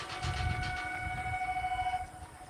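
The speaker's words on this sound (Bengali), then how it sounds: "দেখো ট্রেন আসছে ওই দিকটায় লাইট জ্বলছে" A train approaches along a rail line in the afternoon, sounding a sustained horn over a pulsing, rumbling roll of wheels that holds steady, then the horn cuts off near the end.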